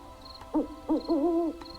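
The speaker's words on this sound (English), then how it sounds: "Oh no, an owl!" An owl hoots in a vampire video game, three clear hoots close together, the last one drawn out, over a quiet ambient background.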